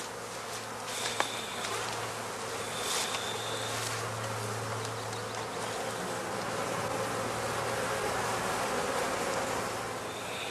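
Honey bees at a heather skep apiary in spring drone in a dense, steady buzz, close and continuous, with a low hum running underneath and no voices.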